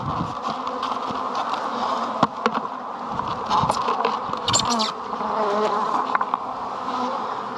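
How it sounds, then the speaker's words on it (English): Honey bees buzz inside a mini mating nuc after being dumped in, a dense, steady hum of many insects close by with no talking. "after we dump all these bees inside"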